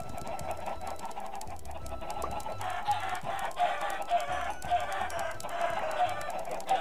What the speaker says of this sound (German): Langsam sind es doch gar nicht mehr so viele Hühner.